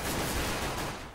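Rapid bursts of gunfire from a Counter-Strike match at the ESEC 2013 Belgium vs. Turkey event, dense and loud, then tapering off slightly.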